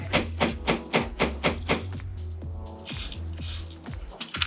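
A hammer strikes a metal ring for jewelry making in a quick run of sharp taps, then slower, more spaced blows, close and crisp, with no talk over it.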